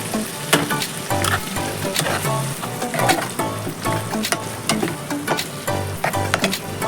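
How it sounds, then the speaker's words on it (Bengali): Ground white sesame and poppy seed paste fries in a pan for sahi fulkopi, crackling and sizzling loudly and continuously, with frequent stirring scrapes woven through and no voices. "এটা একটু ভাজি ভাজি হবে, তাহলে কাঁচা গন্ধ ছাড়বে।"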